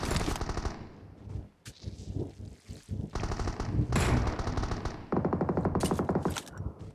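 Gunfire in the mobile battle royale game PUBG Mobile, loud bursts of rapid automatic fire and single shots close by, broken by short pauses and overlapping with other game effects.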